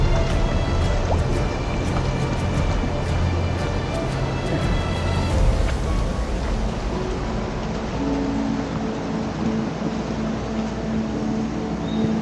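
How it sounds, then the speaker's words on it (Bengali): A spring-fed stream flows beneath a wooden log beside a riverside homestay in the Darjeeling forest, giving a steady close wash of running water with scattered drips and gurgles, no voices. "এখান থেকে ঝর্ণার জল চলে যাচ্ছে।"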